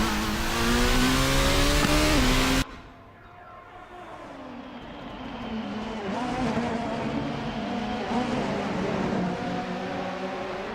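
Race cars lap the Sugo GP circuit in a racing game, opening with a loud, close engine roar that cuts off sharply, then fainter revving and passing engine whine from cars further off that rises and falls.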